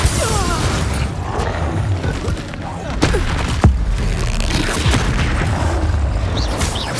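Fiery Confringo spell blasts in a Hogwarts Legacy duel, with booming bursts and sharp pops over a dense wash of combat noise and voices, strongest hits near the middle of the stretch.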